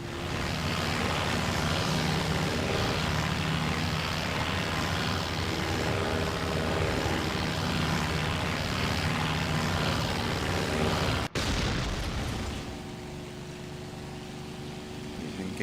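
Propeller-driven aircraft engines drone loud and steady through a bomber-versus-Hurricane air fight in the IL-2 1946 flight game, then cut abruptly near the end to a lower, quieter hum.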